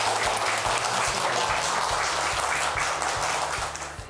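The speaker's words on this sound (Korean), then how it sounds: "오늘 정말 좋은 강연해주신 자문관님께 다시 한번 큰 박수 감사합니다" A lecture audience applauds a guest adviser after a special talk on decentralisation, with steady, close clapping from many hands that tapers off at the very end and no talk over it.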